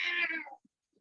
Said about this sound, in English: Oh, it could be my cat in the background.